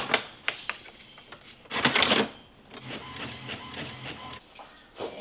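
A home printer runs a sticker sheet through, giving a close, steady mechanical whir with repeated clicks and feed pulses and one louder burst of rolling motion midway.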